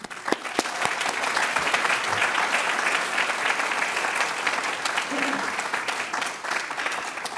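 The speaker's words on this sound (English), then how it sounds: "Please join me in a round of appreciative applause for those not here but make all the difference." Sustained audience applause fills a commencement hall, a dense steady wash of many hands clapping at even loudness throughout, with a few sharper nearby claps standing out.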